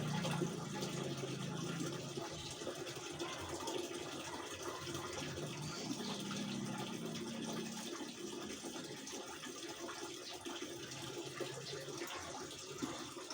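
Water pours steadily into the drum of a Panasonic 9.5 kg top-load inverter washing machine filling for a rinse, a constant faint rushing with low mechanical hum underneath, no talking.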